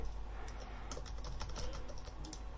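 Random keystrokes on a computer keyboard while editing in the old MS-DOS text editor, a quick, irregular run of close, crisp clicks over steady low room hum.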